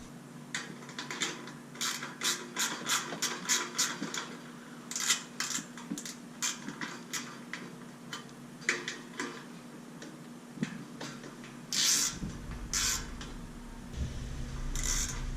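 A wrench tightening a water heater thermocouple fitting, giving a rapid series of close metallic ratcheting clicks in bursts, with a steady low hum underneath.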